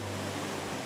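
Powerful falls on the Kootenai River in northwest Montana, a loud continuous roar of rushing water with a steady low rumble and no voices.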